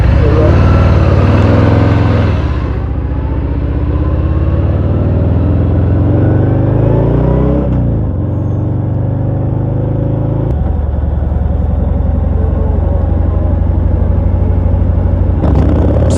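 Acceleration from a 2023 Harley-Davidson Fat Bob 114 motorcycle: loud engine revs climbing through several gear changes, with pitch sweeping upward, dropping at shifts, then rising again, close and sustained over road wind.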